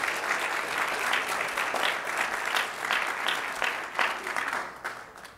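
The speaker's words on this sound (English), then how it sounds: "Let's give Bethany a round of applause." A church congregation at a Baptist service applauds steadily for several seconds, a dense wash of clapping from many hands that swells slightly and then tapers off at the end.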